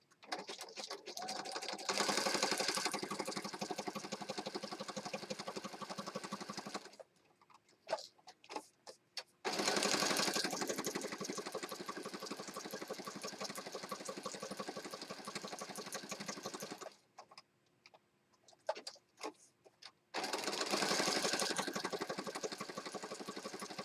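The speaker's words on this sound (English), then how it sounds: "Let's stitch around here." A sewing machine stitching through a handmade mixed media mini journal runs in long, steady buzzing bursts of rapid needle strokes, broken by short pauses filled with scattered clicks and handling noises.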